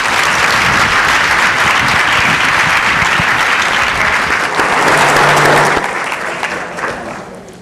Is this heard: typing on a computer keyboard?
no